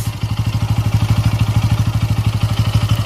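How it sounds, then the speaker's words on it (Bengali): Close by, a Bajaj Pulsar N160 motorcycle idles with an even, fast, deep throb that stays loud and regular throughout. "ইঞ্জিনের আওয়াজ"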